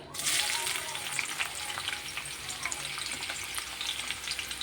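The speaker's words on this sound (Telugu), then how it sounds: "ఉల్లిపాయ, పచ్చిమిరపకాయ ముక్కలు బాగా ఫ్రై చేసేసుకొని" Onion and green chilli pieces fry in hot oil in a pan for a home-style chicken curry, giving a continuous loud sizzle with steady crackle throughout and no talk.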